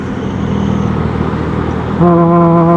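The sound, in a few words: many cars passing on a busy road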